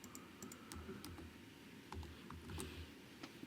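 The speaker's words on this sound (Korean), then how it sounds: "GDIT를 입력하신 후 실행해 주세요" Keystrokes on a computer keyboard as a search term is entered, a quick run of light clicks in uneven bursts, close and moderately quiet, with no talking.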